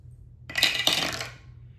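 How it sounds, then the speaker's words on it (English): Shark-themed dice clatter onto a hard surface in a quick rattling burst with two impacts, then fade out, heard alone in a quiet room. "we'll use our shark dice to get us started"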